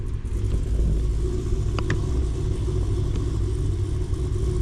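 A Camaro engine rumbles steadily at idle, a deep continuous low growl nearby with no one speaking.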